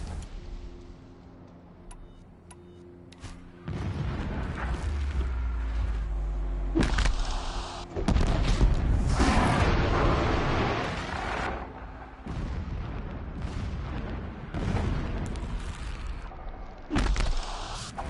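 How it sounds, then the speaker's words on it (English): Explosions boom in the distance in Horizon Zero Dawn on PS4 Pro, several heavy thuds and rumbling blasts spread across the scene with sharp cracks between them, no talk over them. "explosions in the distance"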